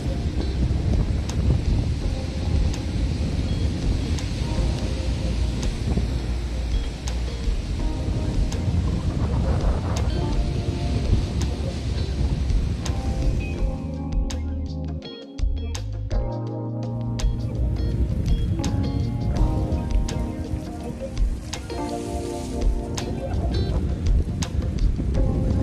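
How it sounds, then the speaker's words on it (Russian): Wind buffets the microphone on a January day at the seaside in Mersin, Turkey, a continuous rushing roar with gusts and a brief lull midway. "Немного ветрено."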